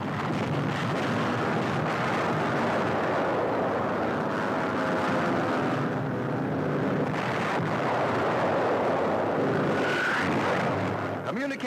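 WWII invasion aircraft fly over Normandy in a dense, continuous roar of many engines. Blast-like bursts are mixed in, under a narrator's voice throughout.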